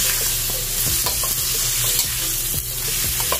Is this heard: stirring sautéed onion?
yes